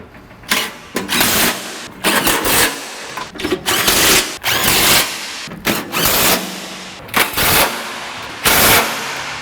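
Power tool on a deep well socket tightening transmission mount bolts on an Acura Legend, loud rattling impact bursts repeated about eight times with short pauses between, close up.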